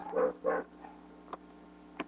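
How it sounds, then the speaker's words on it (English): Dogs bark a couple of times in the background of a room, two fuller barks near the start followed by a few faint, brief yips, all fairly distant and soft with no talking. "those are my dogs in the background"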